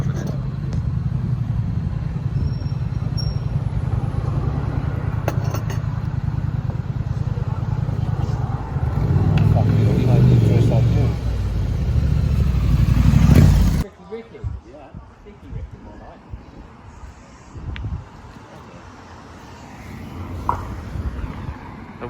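A motorcycle rumbles up to a UK biker cafe, its engine loud and close with a surge around nine to fourteen seconds before cutting off abruptly, followed by quieter ambient sounds.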